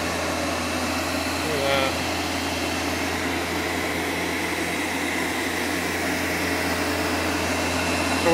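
Tesla turbine generator spinning on compressed air at low RPM gives a steady whirring hiss with a faint rising whine, continuous throughout while a person speaks briefly over it.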